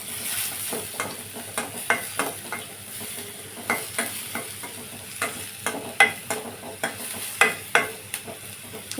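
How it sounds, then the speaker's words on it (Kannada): Onion frying in a hot pan for a paneer curry, a steady sizzle broken by regular scraping stirs with a spatula, close and moderately loud, with no voices. "ಈರುಳ್ಳಿ ಸ್ವಲ್ಪ ಕೆಂಪಾಗೋವರೆಗೂ ಫ್ರೈ ಮಾಡ್ಕೊಳ್ಳೋಣ."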